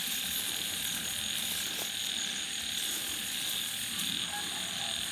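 Frogs croak beside a rice paddy, a dense continuous chorus under steady insect and field noise, moderately distant and even throughout, with no voices.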